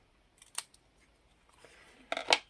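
Scissors snip a few times close by while cutting shapes out of a diamond painting sheet: a couple of sharp isolated clicks, then a quick cluster of crisp cuts near the end, quiet in between.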